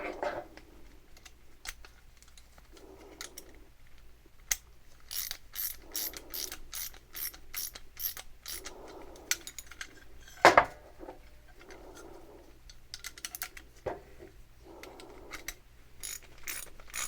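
A ratchet tightens the tie-rod assembly of a C3 Corvette steering build, repeated bursts of rapid close clicking separated by pauses, with a sharp metallic knock midway and quiet low hum underneath.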